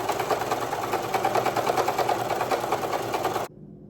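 A sewing machine runs steadily for about three and a half seconds, stitching across a dress collar seam at a 5/8 allowance, then stops abruptly, leaving a faint low hum.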